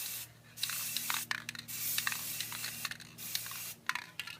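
Never Wet liquid repellent hisses from an aerosol can onto a white Nike sneaker in several close bursts, with short pauses between the sprays.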